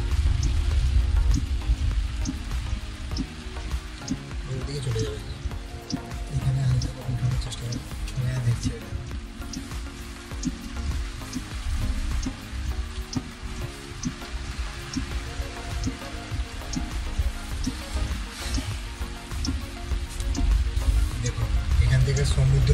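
Heavy rain from Cyclone Remal lashes the Digha seafront, a loud, continuous patter and hiss with deep gusty rumble beneath, steady throughout while a voice speaks over it.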